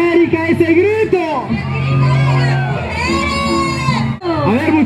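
A large crowd at a Central American parade shouts and cheers together in sustained, overlapping yells, loud and close, with voices rising and falling.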